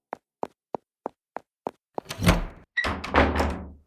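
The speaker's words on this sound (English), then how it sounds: "Door moving on its own." A door moves by itself in an audio drama: seven evenly spaced sharp knocks or taps, then a long creaking, scraping slide and a second heavier grinding sweep, close and loud with no voices.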